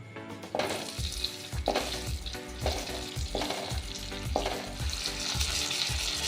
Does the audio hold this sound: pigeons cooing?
no